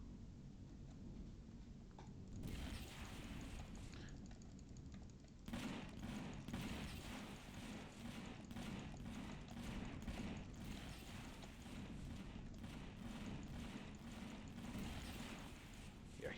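Legacy Zone ships in Empyrion trading fire, rapid repeated bursts of heavy gunfire crackling in quick succession over a constant engine rumble, distant and muffled but sustained.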